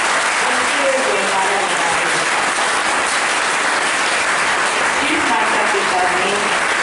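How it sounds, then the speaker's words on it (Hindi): A crowd at a Navratri celebration in Narsinghpur breaks into loud, thunderous applause, a steady dense roar of clapping with a voice heard beneath it. "आप सभी तालियों की गड़गड़ाहट से उसका अभिनंदन करें"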